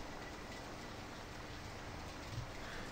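Hailstorm in the Farming Simulator 17 video game, a soft steady hiss of falling hail or rain with faint pattering, quiet and even throughout with no talking.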